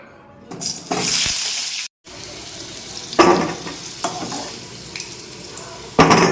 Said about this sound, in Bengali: পেঁপে আলুটা ভেজে নেবো।